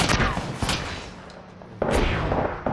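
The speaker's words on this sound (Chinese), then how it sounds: "空袭！" Heavy booming impacts from an air strike in the battle royale game Apex Legends, several loud close blasts with rumbling tails separated by brief lulls, with some voice in the mix.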